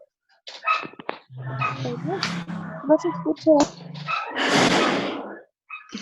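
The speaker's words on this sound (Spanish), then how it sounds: "Me entra mucho ruido como de unos perros ladrando." Dogs barking and yelping nearby, mixed with people talking during an online class, with a loud burst of noise toward the end.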